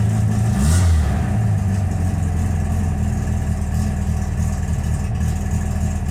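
A cold engine fitted with a 39mm Blues carburetor and no choke runs loud and close, rising briefly in a rev near the start before settling into a rough, steady idle.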